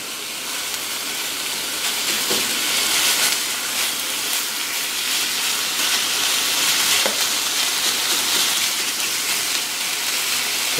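Ground lamb frying in a pan as its fat renders out, a loud steady sizzle and crackle, close up and unbroken, with a few faint spoon stirs and no voices.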